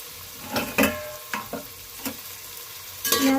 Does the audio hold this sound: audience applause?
no